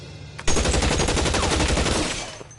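Automatic gunfire from L.A. Noire, a rapid, loud burst of shots starting abruptly and running steadily for about two seconds before cutting off, with no talk.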